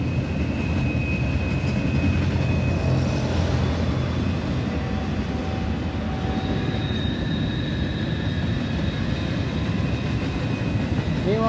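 A long freight train rolls steadily past close by, a loud continuous rumble of wheels and cars with metallic squeals and rattles, carrying on unbroken throughout.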